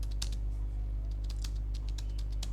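Quiet keystrokes tap on a computer keyboard in irregular bursts while a bio is typed for a Facebook page, with a low steady hum underneath.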